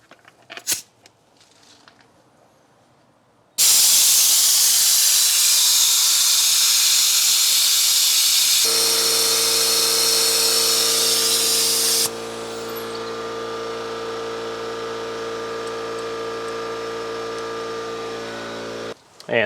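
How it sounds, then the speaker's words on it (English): A brake bleed tool bleeding the front caliper of a 2012 Ford F150 3.5L: a loud, continuous pneumatic hiss that begins abruptly after some faint clicks, then steadies into a droning whoosh with a tonal hum underneath, shifting once in pitch. "to bleed those brakes, I'm going to be using a brake bleed tool to help with this process"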